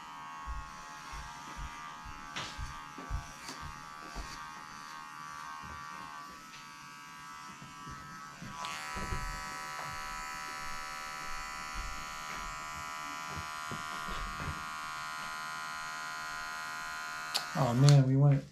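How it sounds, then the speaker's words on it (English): Electric clippers buzz steadily while trimming a wolf-like dog's fur around the corners of the eyes, a close continuous hum that shifts pitch as it presses in, with brief handling bumps and a louder burst near the end. "shaving like right before the corners of the eyes where the stop is"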